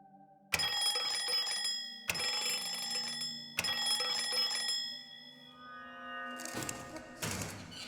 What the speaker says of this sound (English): Oh, there's a bell there. There is a bell icon.